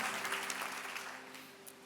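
Applause from a church congregation at a Hillsong São Paulo service, thanking the team; a steady, dense patter of many hands filling the room, fading slightly toward the end.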